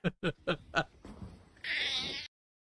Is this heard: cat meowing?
yes